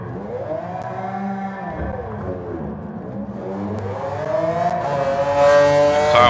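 Racing engine of a 1996 McLaren F1 GTR in the GT Sport video game, rising and falling in pitch as it revs and accelerates, loud and steady, swelling toward the end with a high whine.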